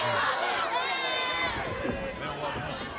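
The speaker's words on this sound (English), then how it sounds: "The boo birds rain down, and Hunter's loving it." A packed stadium crowd at a wrestling match jeers and hollers together in a loud, continuous roar of raised voices that rises and swells over a few seconds without letting up.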